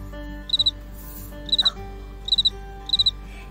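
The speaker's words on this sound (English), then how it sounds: "he chirped the most beautiful sound that she had ever heard" A cricket chirps in four short, evenly spaced bursts of three or four rapid pulses each, clear and fairly close over a steady low hum.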